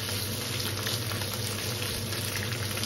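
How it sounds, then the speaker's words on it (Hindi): Potato pieces frying in oil for jeera aloo with cumin seeds, giving a steady, dense sizzle and crackle that runs evenly throughout, with no talking. "यहाँ आप इसे 2-3 मिनट बहुत अच्छे से ऑयल में फ्राई कीजिए ऐसे"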